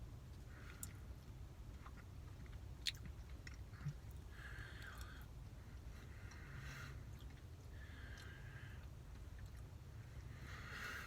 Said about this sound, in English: So I'm going to try a little bit of this fudge here,